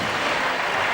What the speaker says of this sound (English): And the crowd giving her a big welcome.